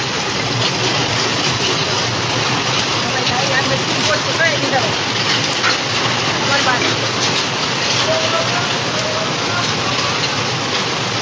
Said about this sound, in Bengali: একদম রাস্তাঘাট একদম সাদা হয়ে গিয়েছে এত শিলাবৃষ্টি হচ্ছে